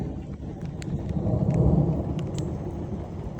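A low, rolling rumble of thunder swells and fades under steady rain, with a few sharper drips nearby.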